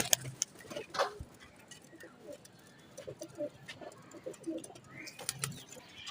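Old-breed domestic pigeons kept in a loft cooing softly in short repeated low calls, faint and a little distant, with scattered clicks and background noise.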